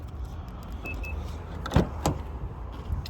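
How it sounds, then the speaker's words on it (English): A Mazda CX-5 Touring being unlocked: a short electronic chirp, then two quick mechanical lock clunks close by, with faint background noise and no talking. "So we're just going to unlock the car now."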